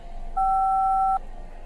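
An answering machine message beep in the video game Rabbit Hill: a single clean, steady electronic tone lasting under a second, standing alone over faint background hiss.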